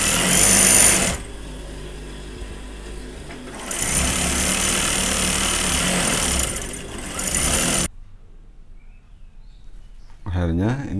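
Sewing machine stitching a baby girl's jumpsuit: a loud, fast mechanical whirr that runs in several bursts with quiet pauses between them, starting and stopping as the fabric is fed.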